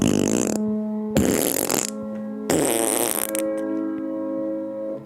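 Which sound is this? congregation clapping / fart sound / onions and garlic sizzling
fart sound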